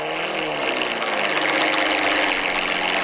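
Car engine with a muffler delete idling, the raw exhaust note running steady and fairly close throughout.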